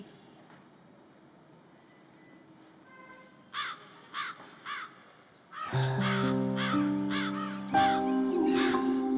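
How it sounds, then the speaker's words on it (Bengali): A crow caws three times in fairly close, separate calls, then a loud, sustained droning tone swells in and continues underneath a few more caws. "তোমাকে আগেও বলেছি ওটা একটা কাক ডাকছে।"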